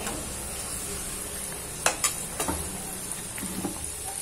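Sambar wadi fry in hot oil with a steady, close sizzle, broken by a few louder spits and bubbling bursts midway and near the end.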